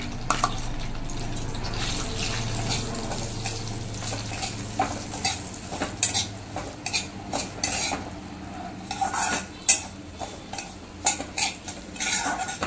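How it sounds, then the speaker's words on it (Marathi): A utensil scrapes and stirs broken wheat roasting in ghee in a hot pan with a soft sizzle, clinking against metal in irregular strokes. "आणि ही जी लापशी आहे ही मी चांगली भाजून घेणार आहे"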